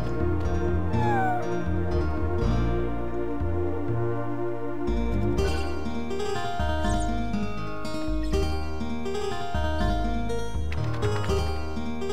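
A cat meows in the PlayStation RPG Chrono Cross, a short cartoonish call set against continuous game background music.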